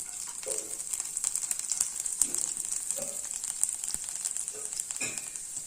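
Chopped garlic frying in a pan for soya chunk fried rice sizzles with a steady bright hiss, broken by a few soft scrapes and clinks of stirring, close and moderately loud with no talking.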